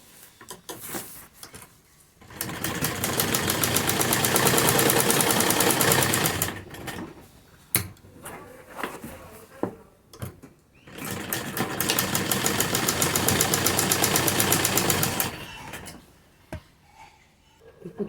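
A sewing machine stitches a leaf-shaped design on a salwar in two long, loud, steady bursts, separated by a pause with light clicks and handling noises.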